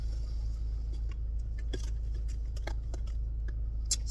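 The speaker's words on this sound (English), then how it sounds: "hey, getting a little wash, man. You see it going all around the car, all around the back there." An automatic car wash working over a car heard from inside the vehicle, a constant low rumble with scattered spray taps and clicks against the body and a brief sharper burst near the end.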